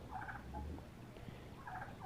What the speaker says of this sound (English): These turkeys are curious animals, really curious animals.